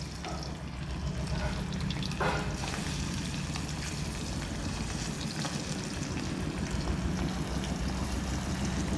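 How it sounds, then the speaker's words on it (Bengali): Paneer pieces frying one by one in hot oil give a continuous, even sizzle that stays close and steady throughout, with no talk. "পনিরগুলো ভেজে নেব এক এক করে"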